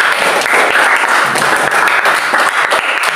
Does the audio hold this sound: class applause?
yes